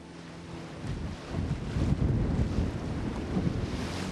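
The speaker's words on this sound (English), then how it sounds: "The waves are unpredictable." Wind buffets the microphone while Mediterranean sea waves slosh and churn around a small boat off Malta, a steady, close roar that swells slightly midway and continues with no voices.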